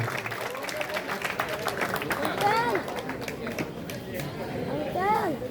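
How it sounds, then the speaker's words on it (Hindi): A crowd keeps applauding without pause at a Teacher's Day celebration in Bhagalpur, a steady wash of clapping with shouts and chatter rising over it. "तालियां रुकनी नहीं चाहिए,"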